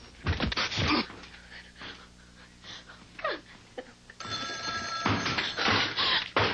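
Telephone bell ringing in repeated bursts during a 911 conference call, loud and close, with quieter gaps of line noise between rings and no talking.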